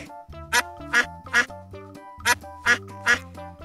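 A duck quacks in six loud, evenly spaced bursts, arranged in two groups of three with a short gap between, over soft musical backing.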